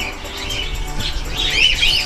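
Faint, scattered high chirps from budgerigars in an outdoor aviary over a soft, steady background hiss.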